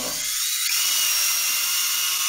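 A high, whining construction drill runs continuously and loudly, its grinding tone steady throughout with no voices.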